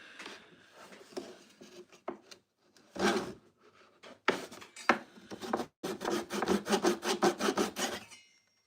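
DeWalt pole saw cutting through wood with a rough, uneven action, heard as scattered rasping strokes at first, then a steady run of quick back-and-forth saw strokes near the microphone, loud and without talk.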